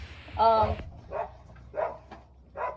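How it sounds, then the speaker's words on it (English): A few short dog barks and yips spaced about half a second apart, fairly close, with a louder first bark. "Sorry if you have to hear Tweedledee and Tweedledum go barking"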